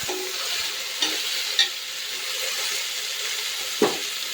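Tomatoes fry in a pan for vegetable pulao, giving a steady close sizzle and hiss broken by a few sharp clinks of stirring.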